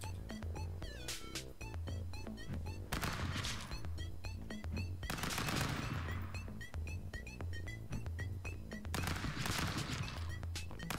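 Rapid gunfire from the stick-figure brawler game Stick Fight, with sharp bursts of shots and heavier impact booms stacked in quick succession, punctuated by ringing pings over a steady game backdrop.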